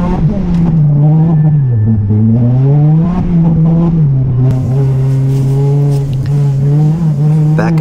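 Race car on a time attack circuit during a warm-up lap, engine droning loud and close from inside the car, pitch rising and falling with throttle and gear changes, steady throughout.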